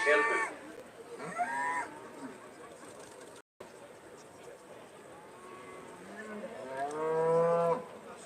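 Aberdeen-Angus cattle moo repeatedly at a livestock show, with several drawn-out lowing calls rising at the start and end over steady crowd and hall ambience, while a voice speaks faintly in the background.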